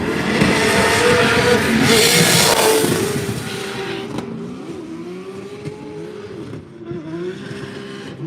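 A Formula Drift car in warm-up at a Utah track, engine revving hard and loud with a tire-scrub roar, then easing to a steadier, lower drone with brief rises, heard up close and continuous.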